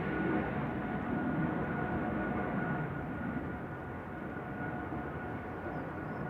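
Air Baltic Airbus A220-300 jet at gusty Manchester Airport, heard as a steady, fairly distant engine roar with broadband rumble and faint tonal whine, slowly easing in loudness, with no talk over it.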